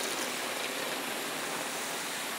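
Irrigation water rushes steadily through a ditch on a traditional New Mexican farm, a continuous broadband roar like a close stream, with no talking over it.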